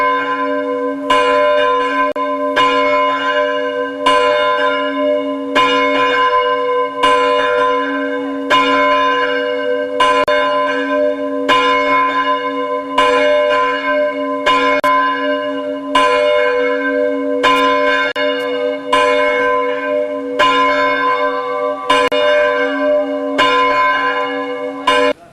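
Church bells peal in Bergen, Norway, loud and close, with repeated strikes in a steady rhythm over a sustained ringing hum, continuing throughout without any voices.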